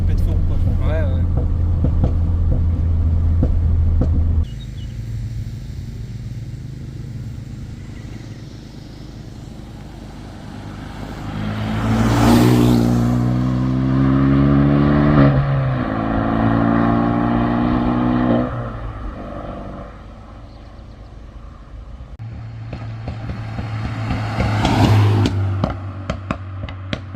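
A Renault Mégane 3 RS engine idling, then rising through loud revs in repeated bursts with crackling exhaust pops, settling back to idle, while people talk nearby.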